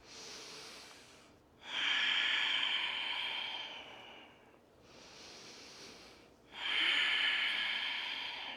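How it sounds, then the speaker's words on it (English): Slow, deep breaths during seated shoulder rolls in a yoga flow, two long breathy cycles with loud airy exhales alternating with softer inhales, close and alone. "So let's take a couple of breaths with shoulder rolls."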